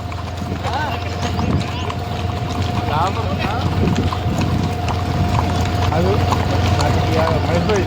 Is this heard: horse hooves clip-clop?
yes